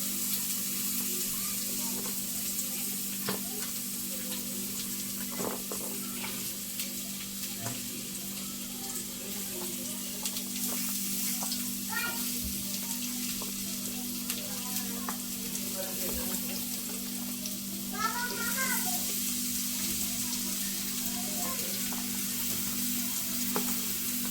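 Mixed vegetables including cabbage frying in oil while being stirred together, a steady close sizzle with occasional clatters and scrapes from the spoon, and a brief voice now and then over the cooking.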